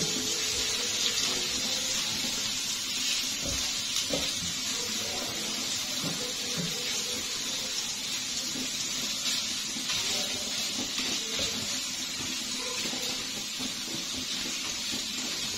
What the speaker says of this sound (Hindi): इसको हम 2 मिनट अच्छे से फ्राई करेंगे, इनका कच्चापन खत्म करेंगे।